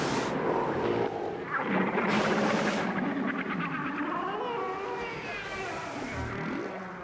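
Whales vocalize underwater in a long series of rising and falling moans and squeals with some clicking, heard fairly clearly over a constant rumble of background water noise.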